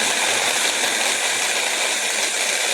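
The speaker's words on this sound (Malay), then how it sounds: "Kita akan kisar, campur sedikit air." A blender runs continuously, grinding spices for a Pahang-style fish curry paste of garlic, shallots and galangal with a little water, giving a loud, steady, dense whir with no pauses.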